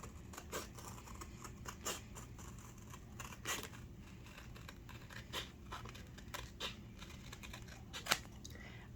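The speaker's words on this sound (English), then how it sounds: "So now we're going to cut the excess off of the image." Scissors snip away the excess around a sublimation-printed image in a craft setting, giving quiet, scattered crisp cuts and paper rustles over faint background hum.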